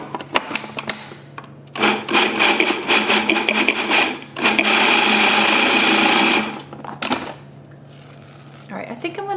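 A food processor pulses pine nuts into a raw cheese paste in a home kitchen, loud whirring bursts of a few seconds each, with short gaps between them.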